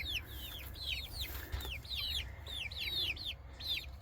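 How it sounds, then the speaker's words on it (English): Young chickens cheep and peep in quick repeated calls, close by, over a low steady background hum. "These are chickens that my wife has hatched that aren't big enough to go in with the other ones yet."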